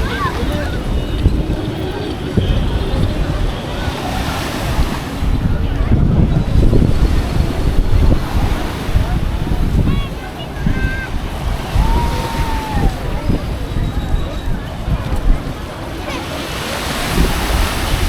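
Surf rolls in steadily at a crowded Puerto Vallarta beach, a continuous washing roar with gusts of wind buffeting the microphone and a faint murmur of beachgoers in the background.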